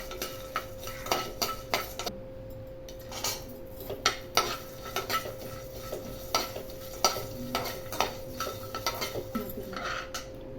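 Coriander seeds, copra and peanuts are dry roasted in a pan. A metal spoon scrapes and clinks against the pan in repeated, uneven strokes, close and clear, with a faint rustling of the seeds between strokes.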